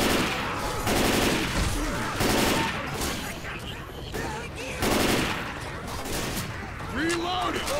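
Rapid bursts of gunfire from zombie shooter Left 4 Dead 2, volleys starting and stopping in several clusters with a steady game din between them, close and loud.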